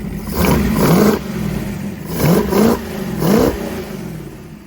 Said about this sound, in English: All we've done is put in the idle, and it'll rev on up good.